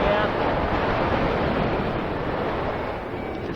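Wind buffets and roars in a steady, loud rush during a paragliding flight in mountainous terrain, filling the whole stretch with broadband noise and no voice heard.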